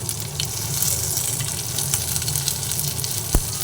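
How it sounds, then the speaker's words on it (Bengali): Grated ginger fries in a pan, a steady close sizzle that holds at even strength throughout, with a faint knock near the end. "আদাটা দেওয়ার পরে আদা সাদা দিয়ে একসঙ্গে পুরোটাই ভেজে নিচ্ছি"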